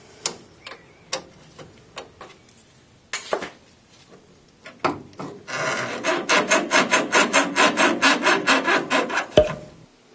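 Spanner turning a nut on the pin of an MG Midget front suspension lower arm: scattered metallic clicks at first, then a fast run of loud, regular ratcheting rasps close to the microphone.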